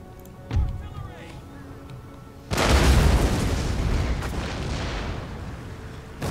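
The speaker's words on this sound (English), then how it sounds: "terrible shooting from the demi cannons" Demi cannons fire in the video game Empire Total War: one dull boom, then a loud burst of massed cannon fire that rolls on into a sustained rumbling roar.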